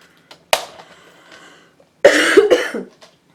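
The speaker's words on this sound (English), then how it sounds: "Excuse me, still got the cough." One sharp cough, then a quiet pause and a longer, harsher burst of coughing close to the microphone.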